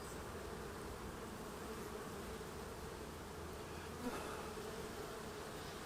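Honey bees buzz around a hive in a steady, even drone, faint and continuous with no talking.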